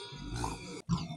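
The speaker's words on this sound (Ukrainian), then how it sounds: "Нутрії пищать." Nutria on a small village farm, making short squeaky, grunting calls at close range, a brief pause, then another grunt right after.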